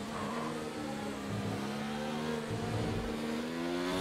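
A race car's engine revs hard during a track lap, a loud sustained roar with tones climbing through the gears, heard alone without talk.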